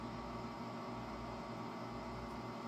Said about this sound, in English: Just makes a humming sound like a refrigerator.